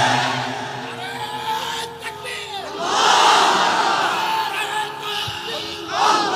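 A large crowd at an outdoor Islamic religious gathering roars the Nara-e-Takbir slogan in loud, swelling shouts that rise and fall in waves, fairly near and filling the space.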